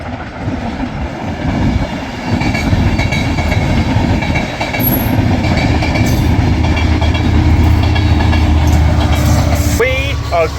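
A train rumbles past close by at Ardwick Station, loud and continuous, with rhythmic clattering wheels and a high squeal near the end.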